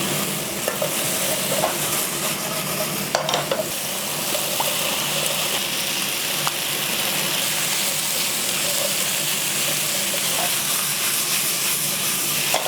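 Potatoes fry and sizzle in hot oil in a pan while making chicken kalguksu, a steady loud crackle with occasional stirring clicks and scrapes throughout.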